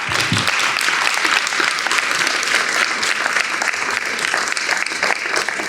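Sustained audience applause at a talk on food security, dense steady clapping from a crowd throughout, fairly loud with no speech over it.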